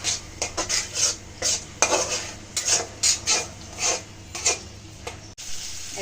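Fish curry masala with lemon leaves being stirred and sautéed in a pan for a loita fish chorchori, a low sizzle under repeated scraping and clinking strokes of a spoon against the metal pan, close and steady; no talk.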